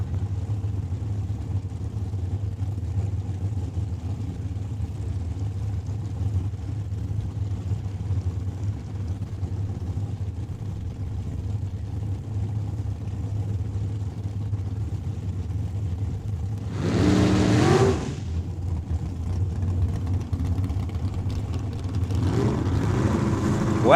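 A 1972 Dodge Dart drag car idles with a low, steady engine rumble at a Saskatchewan raceway, then brief bursts of revving break through near the end.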